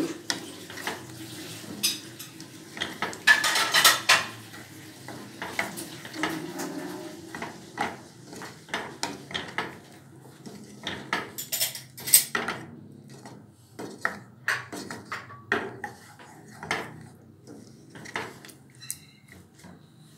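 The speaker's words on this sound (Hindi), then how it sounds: "इसकी अच्छे तरह से भुनाई करेंगे।" Masala being roasted in a pan while a spoon stirs it, giving irregular clinks and scrapes of utensil on metal over a faint low sizzle, close by and with no voice.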